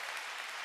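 A brief stretch of dense, steady applause from a concert audience at a live performance hall.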